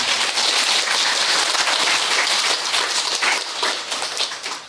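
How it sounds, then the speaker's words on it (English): A dense, steady burst of clapping from a group of people, loud and continuous throughout with no talk over it. "Why are you clapping?"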